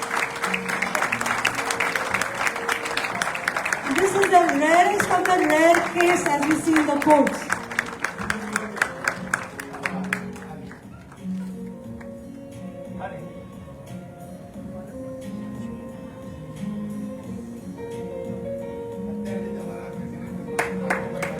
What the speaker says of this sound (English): A very loud applause, please.